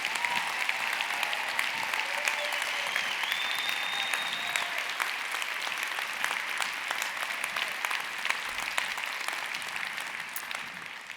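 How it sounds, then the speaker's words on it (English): An audience applauds at a company event, sustained even clapping from a large crowd that carries on steadily for several seconds at moderate distance. "can we give a round of applause to Ashley and Leland and Danielle for sharing their"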